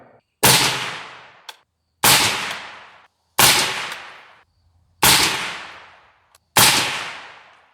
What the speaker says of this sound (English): now that the suppressor has been added, 5 more rounds of 125 grain 300 blackout.